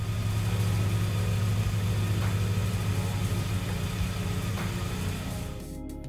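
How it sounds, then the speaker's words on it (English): Toyota 4A-GE engine idling steadily after an ECU and coil-on-plug conversion, a close, even low hum with a faint catch partway through, cutting off abruptly just before the end. "So I got the car starting now."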